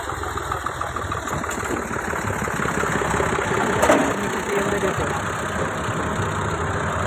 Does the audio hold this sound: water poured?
no